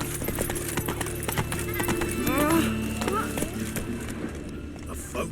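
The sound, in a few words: horse Roach trotting, hooves, from video game The Witcher 3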